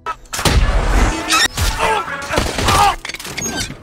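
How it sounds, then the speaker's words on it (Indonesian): Sniper gunshots in an action film crack out in quick succession, loud and close, with booming low thumps and shattering debris mixed with film dialogue and music. "tiba-tiba ia ditembak oleh salah satu sniper, lalu diikuti oleh teman-teman sniper yang lain"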